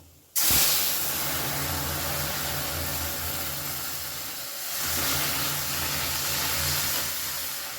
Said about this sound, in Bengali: আমি এই সেদ্ধ ডাল ঢেলে দেবো